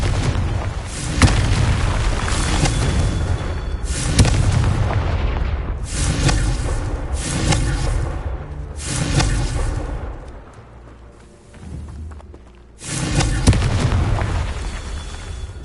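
The Confringo fire spell in Hogwarts Legacy erupts in a series of loud, booming blasts that follow each other in quick succession. Each blast leaves a rumbling tail, with a brief lull near the end before another burst.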